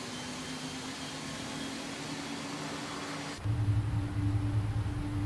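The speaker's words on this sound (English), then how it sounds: "Right, and the engines are now starting." A Boeing 777-200ER engine spools up in the X-Plane 12 flight simulator. A steady airy whine and hum runs for several seconds, then a deeper, louder rumble swells in and holds.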